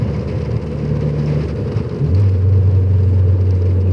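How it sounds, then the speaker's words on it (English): A Honda Prelude engine hums steadily under load from inside the car, then shifts to a louder, lower, sustained drone as a rev-matched downshift settles. "Really working on those rev match downshifts."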